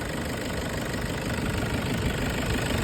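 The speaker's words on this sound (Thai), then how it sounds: "เครื่องนุ่มๆเลยครับผม" A Toyota Hilux Tiger D4D 2.5 diesel idles close by, a steady, even rumble with a soft knocking texture and no voices over it.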